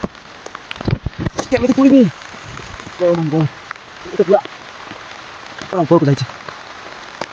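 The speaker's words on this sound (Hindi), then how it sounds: "बाप रे वर्षा आरंभ हो गला" Rain starts falling outdoors in a village, making a steady, broadband hiss with scattered drop patter throughout, while people talk over it.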